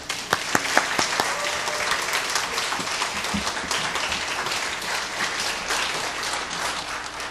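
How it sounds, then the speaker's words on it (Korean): A church audience claps warmly to welcome a speaker to the stage, with a few sharp early claps swelling into sustained, dense applause that holds steady and continues to the end. "큰 박수로 인사를 대시도록"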